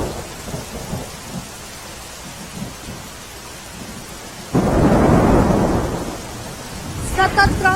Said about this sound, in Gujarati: જામનગરમાં સતત 3 દિવસથી વરસાદ પડી રહ્યો છે